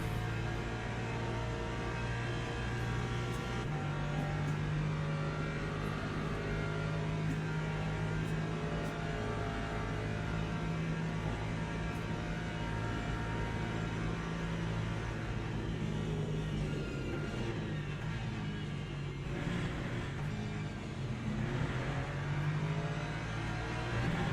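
Hypercar engines in the Le Mans Ultimate racing game roar continuously at Le Mans, with sustained revving and shifting pitch as cars accelerate and pass, loud and steady throughout with no talking.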